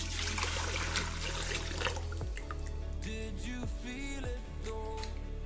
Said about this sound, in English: And goes the sugar water.